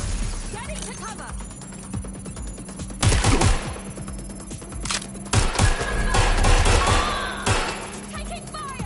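Gunfire in Watch Dogs Legion, bursts of rapid automatic shots and single loud cracks arriving in clusters, mixed with game dialogue and background noise.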